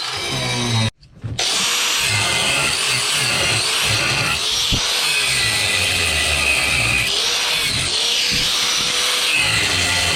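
A power tool works loose the bed bolts on an OBS truck with a 7.3 IDI turbo diesel. It makes a loud, continuous, close grinding whir with one brief break near the start.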